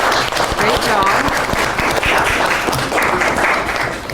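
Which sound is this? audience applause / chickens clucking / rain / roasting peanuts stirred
audience applause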